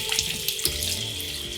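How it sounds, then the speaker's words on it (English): Warm water runs steadily from a tap over hands at a sink, a continuous close splashing stream with a few brief splatters. "first wet them with warm water"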